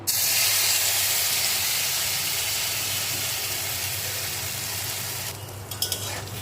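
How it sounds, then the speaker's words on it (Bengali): Ready-made dhoka lentil paste drops into hot oil in a wok and bursts into a loud, close sizzling hiss that slowly eases, ending with a few light clinks and scrapes. "কড়ার তেলটা গরম হয়ে গেছে এবার যে আমি যে রেডিমেড ধোকার পেস্টটা বানিয়ে রেখেছি এবার এটা আমি কড়াতে দিয়ে দেবো"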